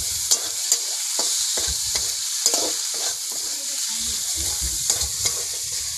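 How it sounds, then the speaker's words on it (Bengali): Snails sizzle in hot oil in a pan for a spicy curry while a spoon stirs them, with steady frying hiss broken by repeated scraping and clinking strokes close up. "এবারে আমি গুগলিগুলো দিয়ে দেব। তারপরে ভালো করে নাড়াচাড়া করে নেব।"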